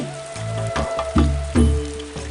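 Steady rain pours down as a story's sound effect, a continuous hiss layered over low droning tones and a few louder swells, with no voices.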